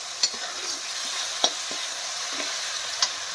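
Spice masala frying in oil crackles with a steady close sizzle, broken by a few soft scraping stirs, with no voices.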